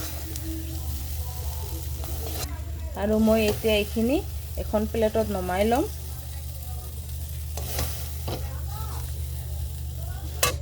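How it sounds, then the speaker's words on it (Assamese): Masala and bitter gourd seed paste fry in a pan with a soft, continuous sizzle and occasional stirring scrapes, heard beneath someone talking for much of the time. "মই মছলা আৰু ভাতকেৰেলা গুটিৰ পেষ্টখিনি 2 মিনিট টাইম ভালকৈ ভাজি ল'লোঁ।"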